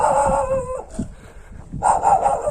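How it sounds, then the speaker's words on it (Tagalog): A dog on a rural farm hillside gives a couple of short, fairly loud calls, close by, with outdoor background and no speech. "May aso!"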